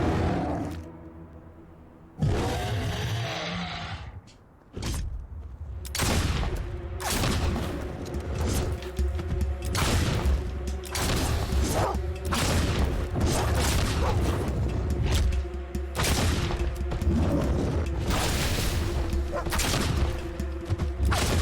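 A new gun in Fable II fires in steady, rapid loud blasts, a near continuous barrage of sharp booming shots under occasional talk.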